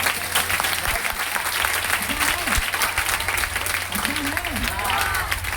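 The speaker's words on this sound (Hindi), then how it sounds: "मुंह से बोल के नहीं, ताली बजा के दिखाओ।" An audience at a business meeting in a Patna branch claps in dense, steady applause that runs the whole time, with a voice talking over it.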